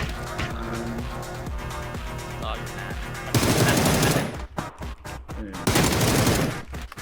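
Rapid automatic gunfire from the video game PUBG rattles in dense bursts, first lighter distant shots, then louder close volleys with short gaps, while a player talks faintly underneath.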